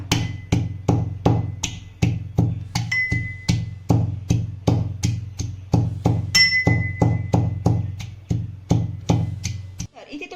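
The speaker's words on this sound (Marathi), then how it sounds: "इथं मी खलबत्ता घेतलेला आहे आता यामध्ये आपल्याला एक एक दोन दोन उमरं घालायची आहेत आणि छान अशी ठेचून घ्यायची आहे" Cluster figs are pounded in a mortar with a pestle, heard as a close, loud series of dull thuds in a steady rhythm of about two per second, with brief ringing metallic tones on a few strikes.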